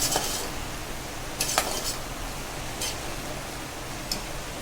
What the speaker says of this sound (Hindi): नमक को भी हम अच्छे से मिक्स कर लेंगे